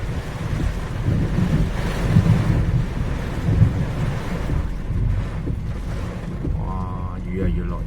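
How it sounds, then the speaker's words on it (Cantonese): Typhoon wind and heavy rain on a coastal road: constant roaring wind buffeting the microphone with dense rain noise throughout, loud and unbroken. "哇，雨啊越落越大"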